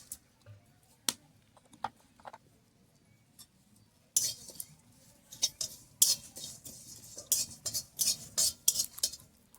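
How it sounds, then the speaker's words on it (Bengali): A spatula stirring cumin, fennel, cardamom, cloves and cinnamon as they dry-roast in an empty pan in a village kitchen. Soft, sparse clinks at first give way to busier, louder scraping and tapping in the second half. "এবার এই শুকনো খোলায় কিছু মশলা আমি প্রথমে ভেজে নেব।"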